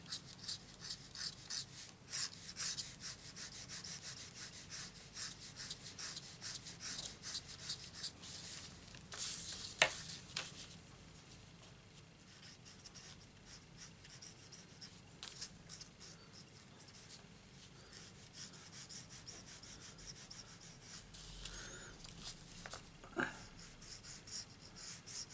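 Granite grey marker pen colouring in on paper for a stamped card, soft continuous scratchy rubbing strokes, quiet and close, with a single brief louder tap partway through and no talking.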